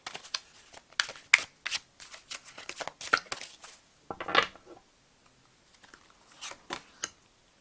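Tarot cards shuffled by hand at close range, a quick series of soft riffling slaps and flicks in uneven bursts, quieter toward the end, with no talking.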